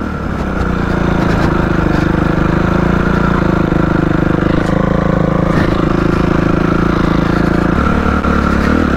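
A moped scooter engine runs steadily and loud throughout, a close continuous motor drone with slight shifts in pitch, on a road where snow still lies in shaded spots.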